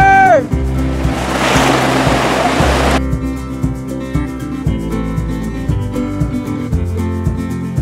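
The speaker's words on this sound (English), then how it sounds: "Wild crazy white water." Rushing white water rapids crash loudly for a few seconds in a broad, hissing surge, then give way to rhythmic music that carries on to the end.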